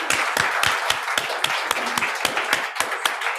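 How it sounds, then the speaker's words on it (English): Applause at a city council meeting in Richmond, a roomful of hands clapping steadily and briskly with dense overlapping claps throughout, fairly loud and close, with no one speaking over it. "I think we should give them a great applause"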